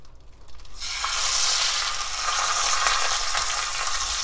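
Salted mackerel dropped into hot oil in a pan, setting off a loud, close, continuous crackling sizzle after a quiet first second.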